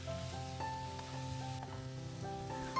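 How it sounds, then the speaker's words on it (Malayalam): Ash gourd cooks in ghee for kumbalanga halwa, a steady soft sizzle with faint scraping as it is stirred, continuous and close with no voices. "നല്ലവണ്ണം ഇളക്കി കൊടുത്തുകൊണ്ടിരിക്കണം."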